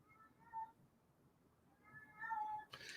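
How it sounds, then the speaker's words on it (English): A house cat cries with several plaintive meows, a short one early and a longer drawn-out one near the end, fairly close and clear over a quiet room. "Yes, that's my cat crying."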